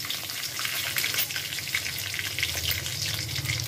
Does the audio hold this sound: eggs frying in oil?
yes